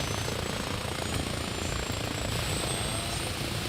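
A military helicopter in the Arma Reforger video game drones steadily and loudly throughout, a dense, continuous rotor and engine roar with no speech over it.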